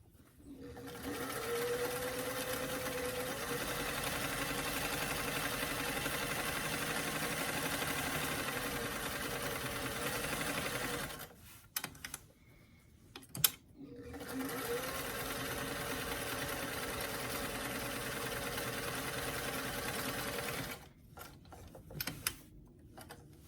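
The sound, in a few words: sewing machine stitching a zigzag edge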